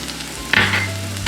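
Seasonings for a vegan lentil soup hit a hot pan with a short burst of sizzle and a stirring scrape, brief and close with no voices.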